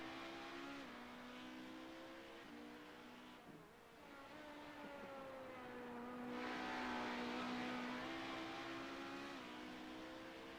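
A sports race car at Watkins Glen drones past at a distance, its engine tone rising and falling through gear changes as it swells louder and fades, with no talking.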